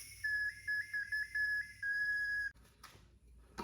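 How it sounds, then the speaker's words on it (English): A handmade two-tone cherry wood whistle gives a series of short, bright, steady toots, then one longer blast, played close and clear over faint background noise. "this last batch of cherry, I decided to try something a little different and make a 2-tone whistle."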